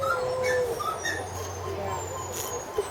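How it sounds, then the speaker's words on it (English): Zoo monkeys giving high, dog-like whimpering and yipping calls at a distance, several short thin cries spread across the moment, under a steady murmur of visitors talking. "Listen to those monkeys. They're so cute. They look like a real dog."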